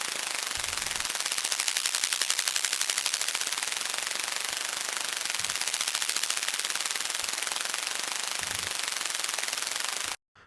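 Synthesized wing flutter built in Vital from filtered white noise, a dense, rapid broadband fluttering pulse that runs steadily for about ten seconds with slight swells, then cuts off abruptly.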